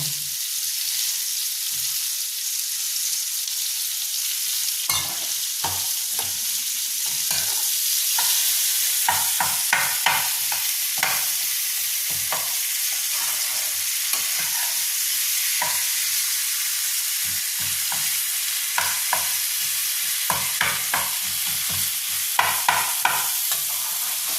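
Hilsa fish heads fry with cumin powder in a pan for a potato and pumpkin curry. A continuous soft sizzle runs alone, broken by repeated sharp scrapes and clatters of stirring that cluster more densely toward the end.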